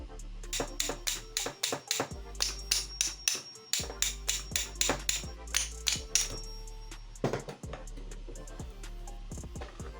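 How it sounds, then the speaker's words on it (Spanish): Repeated sharp metallic hammer taps on an Oster blender shaft in quick bursts, close and clear, pausing briefly between groups of strikes before tapering off. "Luego vamos con un martillo, vamos a intentar sacarlo"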